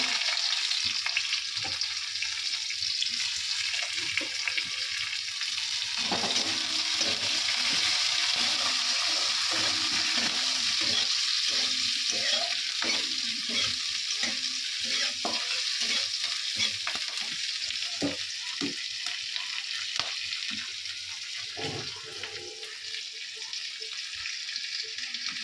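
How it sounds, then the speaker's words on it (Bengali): Amudi fish jhal fries in a pan: a steady, close sizzle runs throughout, broken by repeated scraping and clatter of stirring over roughly twenty-five seconds. "না আগে আমুদি মাছের ঝালটা বসিয়ে দিই"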